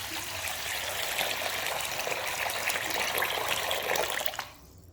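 Brown rice is washed under running water in a kitchen, a steady close rush and splash lasting about four seconds before the flow stops abruptly.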